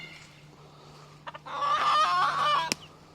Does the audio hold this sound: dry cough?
no